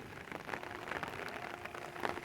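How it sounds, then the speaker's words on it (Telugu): Heavy rain pours steadily outdoors near coconut and fruit trees, a dense, even hiss of drops striking surfaces with no pauses and no voices. "మూడు రోజుల నుంచి నాన్ స్టాప్గా కురుస్తుంది వర్షం"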